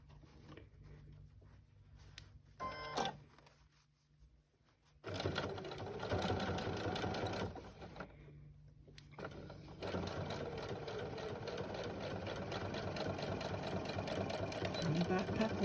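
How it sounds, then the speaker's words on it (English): A sewing machine stitches up the side of a child's backpack made of denim and cotton fabric, running in bursts of steady rapid whirring that stop and start, with a voice talking in the pauses. "I'm gonna pin needle down and just sew up the side."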